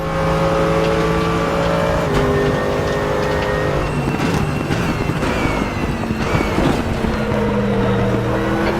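Mercedes AMG GT3 race car engine in the RaceRoom racing game, a loud continuous drone that rises and falls as the car shifts gears and changes pitch through a multiclass GT3 and GT4 race, with no talk over it.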